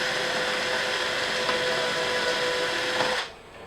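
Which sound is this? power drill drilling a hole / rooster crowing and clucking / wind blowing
power drill drilling a hole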